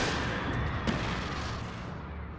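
A single gunshot fired in the horror video game Alan Wake rings out as one sharp, loud report with a lingering reverberant tail over a dense, dark ambient rumble.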